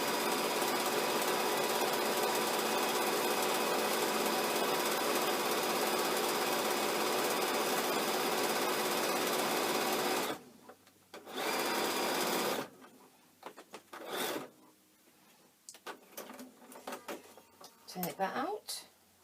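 A sewing machine stitches across fabric edges with a back tack, a loud, steady, rapid mechanical whirr lasting about ten seconds, then short stop-start bursts with pauses and handling noise.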